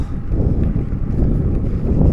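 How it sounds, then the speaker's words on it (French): Steady wind buffeting the microphone while cycling a gravel route in northern France, a low continuous rumble heard alone. "J'ai un petit vent légèrement défavorable, mais pas trop fort."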